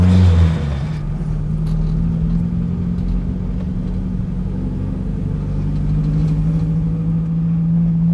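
Car pulling away and driving, a brief rev at the start settling into a steady mid-pitched engine hum and rumble that holds close and fairly loud throughout.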